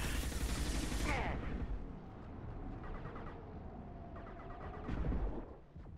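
Heavy gunfire in the video game Mass Effect 2, a dense roaring fusillade with bursts swelling and fading, fairly quiet overall with a burst near the start and another near the end.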